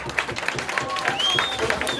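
Brief clapping from a French game show studio audience, mixed with music tones and some speech over the top.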